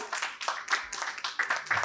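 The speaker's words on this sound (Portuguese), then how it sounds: "Uma salva de palmas para Larissa, por favor." Seminar audience clapping for a panelist, a short burst of scattered applause from a modest crowd, fairly near and steady.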